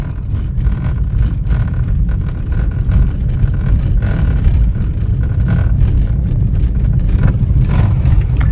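A car rattles and rumbles while driving over a rough off-road mountain road near Hanle in Ladakh, a loud, steady low engine drone with continuous jolting clatter and no pause.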